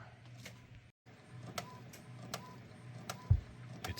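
A sublimation printer runs at low volume, giving a soft mechanical whir broken by sharp ticks and clicks at irregular intervals and one brief pause, with a faint tonal hum and a low thump near the end.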